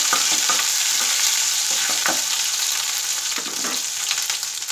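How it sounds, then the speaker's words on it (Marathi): Onion fries with ginger-garlic paste in a pan, a dense continuous sizzle with scattered scraping stirs, close and fairly loud. "आणि कांदा आपल्याला चांगला परतून घ्यायचा आहे"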